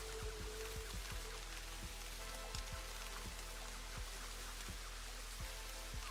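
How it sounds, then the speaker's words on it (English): Rain in the video game Satisfactory patters as a quiet, steady hiss with scattered soft drop ticks, constant and unbroken. "I hear the rain."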